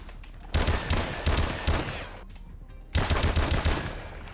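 An M1 Irons rifle fires in Advanced Warfare, two loud bursts of rapid shots about two seconds apart, each shot cracking close and punchy with a brief lull between volleys.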